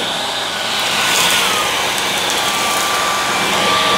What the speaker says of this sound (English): So it ramps up the suction when you're against the edge.